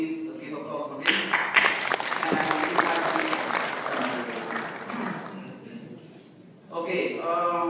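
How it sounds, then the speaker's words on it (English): Seminar audience applauding a speaker at a national webometrics seminar, sustained clapping from a crowd for several seconds that fades, then swells again near the end, with some talk underneath. "So we give applause for him."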